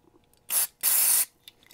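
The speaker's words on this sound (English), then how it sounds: "When you spray a pot out, it helps to turn it throughout its entire rotation anywhere from 10 to 30 times" Contact cleaner hisses into the potentiometer of a 1961 Fender guitar in two close bursts, first a short one and then a longer one, with faint mechanical clicks around them and no talking.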